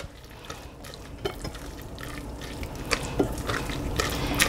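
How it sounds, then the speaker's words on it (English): Udon noodles tossed with a spatula in a creamy peanut sauce with chili oil, giving faint, wet, sticky squelches and soft clicks that build slightly toward the end. "just going to toss the noodles"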